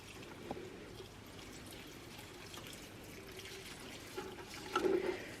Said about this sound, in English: I'm gonna water these Syngoniums as well.